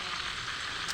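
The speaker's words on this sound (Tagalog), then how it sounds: "prito tayo ng tilapia guys" Tilapia frying in hot oil over a strong flame, a steady close hiss of sizzling with no pauses.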